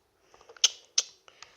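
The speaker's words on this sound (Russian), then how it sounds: "Открою-ка этот холодильник." A refrigerator door creaks open in a Lego animation, a series of small clicks followed by two sharp squeaky creaks and a few softer ticks, close and alone.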